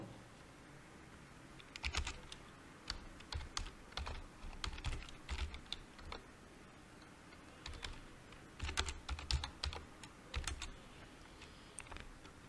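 Keys clatter on a computer keyboard while a short arithmetic program is typed, coming in uneven bursts of quick clicks with short pauses between them. The sound is close and fairly quiet, and no one speaks.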